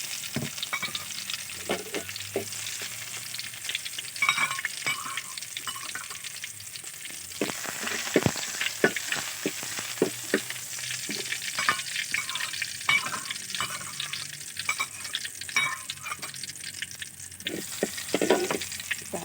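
Garlic sizzles and crackles steadily in hot vegetable oil in a pan while being stirred, with scraping and tapping of a utensil, close and continuous.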